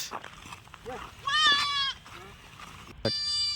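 A goat bleats loudly nearby in wavering calls, with a shorter bleat at the end; a voice talks briefly beside it.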